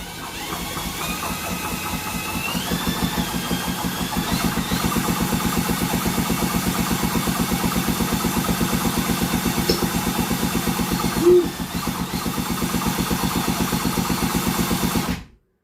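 A 1978 Yamaha DT100 two-stroke engine with a new piston and rings is turned over for a compression test, giving a fast, even mechanical chugging that runs steadily for about fifteen seconds, with one brief louder bump near the end.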